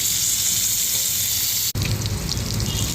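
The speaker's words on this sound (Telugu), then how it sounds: "ఇప్పుడు నూనె వేస్తున్నాం, 1 పావు నూనె వేస్తున్నాం." Cooking oil splashes into a pan for moringa leaf pachadi with a sudden bright gush and a steady sizzling hiss that carries on, close and loud, with no talking.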